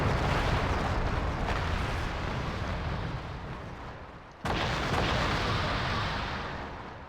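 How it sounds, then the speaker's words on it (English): Mortar shelling in a real-time strategy game, a steady, loud barrage of rumbling blasts that thins out, then resumes abruptly with a fresh heavy burst. "This is a pretty decent use of mortars, just sort of shelling into where you expect there to be light units"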